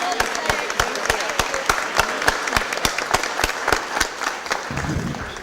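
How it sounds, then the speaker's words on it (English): At a city Board of Aldermen meeting, a small audience claps in sharp, rhythmic, fairly sparse beats. The clapping stays steady, then thins out at the end. "Let's give her one more big round of applause."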